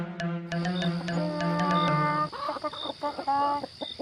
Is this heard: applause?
no